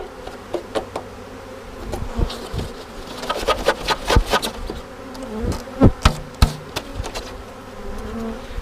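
A large bee swarm buzzes steadily while being shaken from a frame onto a hive landing board, with sharp knocks and thumps from the shaking breaking through the continuous drone.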